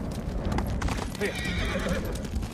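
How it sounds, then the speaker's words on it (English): A horse whinnies loudly over the clopping of hooves while voices talk nearby, in the video game Ghost of Tsushima. "You're a good horse, Captain."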